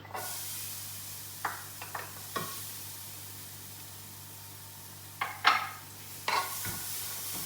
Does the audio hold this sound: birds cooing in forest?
no